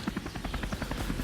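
A helicopter circling somewhere nearby, its rotor giving a steady rhythmic chop that is fairly loud and continuous, with no talk over it.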